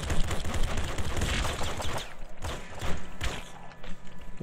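Rapid gunfire from the Nuclear Throne video game rattles off in quick repeated bursts, dense at first and then thinning into scattered single shots mixed with dull thuds.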